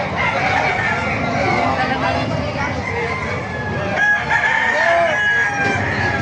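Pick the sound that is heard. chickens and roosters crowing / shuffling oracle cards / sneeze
chickens and roosters crowing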